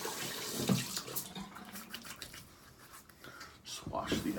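Tap water runs to rinse a shaving razor, a soft, fairly faint splashing with small shifts in the flow, and a voice is heard over it.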